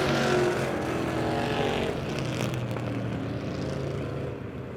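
Race cars at Monett Motor Speedway during weekly racing, a dense, rising and falling engine roar as a pack of cars passes, loud at first and easing slightly toward the end.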